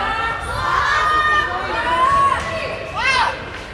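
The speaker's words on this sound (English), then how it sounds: "crowd is yelling for the clock to start" At a Tonka vs Forest Lake high school hockey game, an arena crowd shouts and cheers in rising waves of overlapping young voices, loud and sustained with a few sharper yells.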